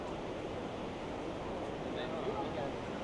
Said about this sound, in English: it's cool to be up at the waterfall and hearing the water